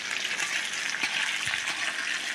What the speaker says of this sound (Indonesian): Udah mulai ngagoreng